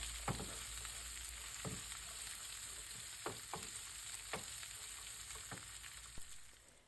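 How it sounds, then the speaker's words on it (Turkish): Dried tomato meze sautéing in a pan, a steady close sizzle and fry with scattered sharp crackles and pops throughout, no voices. "Biraz rengi değişene kadar kavuracağız arkadaşlar."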